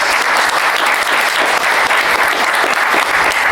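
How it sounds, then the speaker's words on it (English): Loud, close, continuous applause from a convention audience at a 2000 AD comics event at Thought Bubble 2018, a thick unbroken roar of clapping with no voices. "But give it a round of applause."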